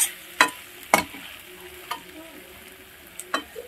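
Mutton is sautéed in oil in a pan while being stirred. Steady close sizzling and frying is broken by several scraping stirs that come at uneven intervals.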